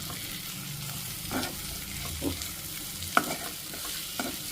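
Tender tamarind leaves fry in plenty of oil in a pan with a quiet continuous sizzle, while occasional stirring scrapes and clinks rise briefly above it.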